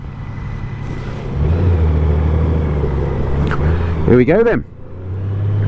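A Honda Goldwing motorcycle pulls away and rides off, its steady low engine drone rising as it gathers speed, with a brief gear-change surge near the end; someone talks briefly over it.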